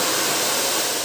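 Hair blower running steadily at close range during cleaning, a continuous loud broadband rush of airflow with no pauses and no speech over it.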